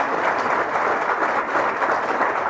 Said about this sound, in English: I'd like to offer you a round of applause.